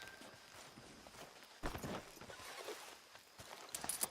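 Horse hooves clip-clopping in the Red Dead Redemption 2 video game, a few quiet footfalls on the ground that grow into a louder burst of hoofbeats near the end.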